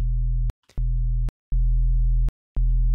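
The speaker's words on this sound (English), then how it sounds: "placing a simple sine wave, and then just pitching this one octave and seven semitones up" A plain sine wave from the Serum synth, played as a bass tone, sounds as four steady sustained low notes with short gaps between them, loud and clean with no talking.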